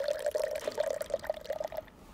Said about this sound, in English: It needs heat to work, so we put in some warm water.